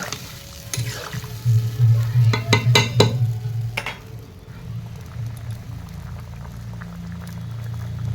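Fish curry broth with vegetables bubbles in a pot, a close mix of low boiling burble and sizzling, punctuated by a few sharp clinks and stirring knocks early on before settling into a steady simmer.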